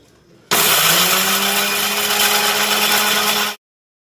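Electric mixer grinder pulverizing flax seeds into fine powder, a loud steady whirring motor with a slight pitch drop as the blades bite, running about three seconds alone before cutting off abruptly.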